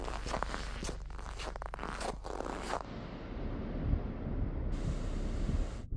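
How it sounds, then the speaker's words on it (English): Steady crunching of very cold, dry snow underfoot at around -33 degrees, close and continuous, with a rough scraping texture and a brief rustle near the start. "I also love the sound of snow when it's really, really cold. It's so crunchy sounding."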